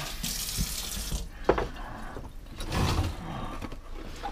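Tap water runs into a sink while cooking a meatball dish, a steady hiss with a brief clatter near the middle and a fuller gush toward the end, fairly close.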